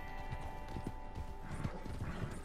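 Horse hooves clip-clop at a steady walking rhythm in the online western game Red Dead Redemption 2, moderately close, over a faint game background with no talk.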